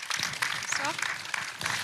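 Audience applause for guests at a French science talk evening, a dense, fairly faint patter of many hands clapping, with a voice speaking over it.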